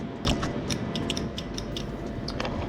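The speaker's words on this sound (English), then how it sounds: "I can hear the relay clicking." Rapid relay clicking on a 1976 Ducati 900GTS motorcycle during a restoration, a series of close, sharp ticks repeating at an uneven pace over a low steady hum.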